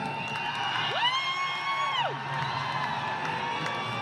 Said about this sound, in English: the fans start chanting USA, USA, USA